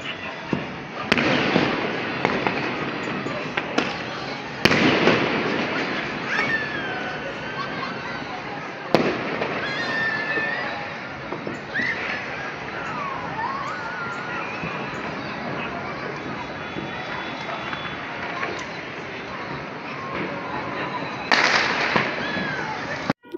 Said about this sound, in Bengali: অনেক কি বলে আতশ ফুটিয়েছে, সেটা অনেকক্ষণ দেখলাম